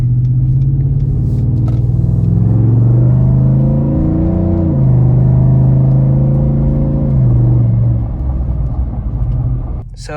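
A tuned pickup truck drives with a loud, steady engine drone and road rumble that climbs in pitch, drops with a gear change, then climbs again before easing off, heard from inside the cab.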